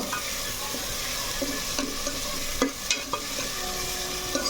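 Onion paste sizzles steadily in a hot pan for a chicken curry, a continuous frying hiss broken by a few louder crackles and stirring scrapes, with no voices.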